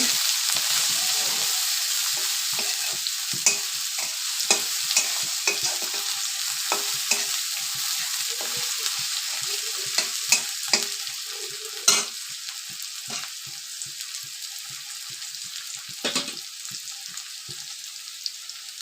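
Egg and potato fry in a pan under a steady sizzle, with repeated scraping stirs and small clicks of a spatula against the pan.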